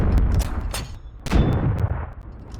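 Tank cannon in the game Steel Aces booming with heavy, loud reports: a strong shot at the start and another about midway, each trailing into rumbling decay, with no talk.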